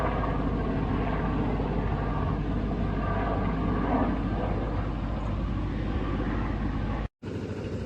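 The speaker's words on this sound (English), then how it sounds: "As you can hear in the background, I have the power source going to charge up the inverter batteries." A continuous engine drone from a power generator charging inverter batteries, steady and fairly loud, briefly cutting out near the end before resuming.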